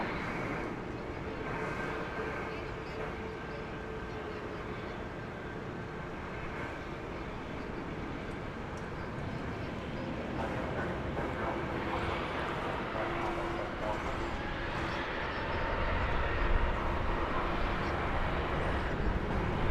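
A UPS airplane on the runway at DFW Airport gives off a distant, steady jet-engine roar that builds slightly over about twenty seconds, with people talking intermittently over it.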